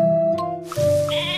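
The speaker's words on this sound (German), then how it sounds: "Das ist ein Schaf." A cartoon sheep in the Caillou Gute Nacht children's game gives a short, bright bleat, then a wavering second one, set against a soft, sustained musical tone.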